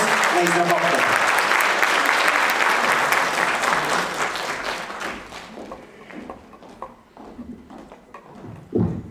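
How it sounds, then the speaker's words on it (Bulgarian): An audience at an awards ceremony honouring the creator of the year bursts into loud, dense applause that holds steady for several seconds, then thins into scattered claps and fades under the room's ambience. "Моля за вашите аплодисменти за изключителната доктор Бистра Писанчева"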